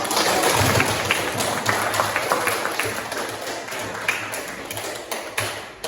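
Classroom applause during a teaching session, a dense patter of many hands clapping loudly at first, then gradually thinning and fading over several seconds.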